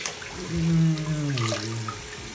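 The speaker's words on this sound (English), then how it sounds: "Sorry if the water's loud." Tap water runs steadily from a faucet into a sink as a face is wetted, a close, continuous splashing rush lasting the whole stretch.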